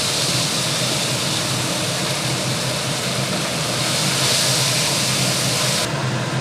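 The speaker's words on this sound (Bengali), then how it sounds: "এবার আমি মাছগুলো দিয়ে দিচ্ছি, ম্যারিনেট করা মাছ" Marinated fish slices dropped into hot oil for a Bengali fish curry give a loud, dense, steady hiss and sizzle, close and continuous with no voices.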